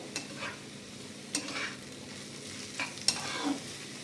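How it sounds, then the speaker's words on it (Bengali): Papaya pieces frying in an open pan are stirred, giving a soft steady sizzle with a few sharp spatula scrapes and knocks against the pan, close and fairly quiet. "এবার ঢাকাটাকে খুলে আমি একটুখানি পেঁপেটাকে নেড়ে দেবো।"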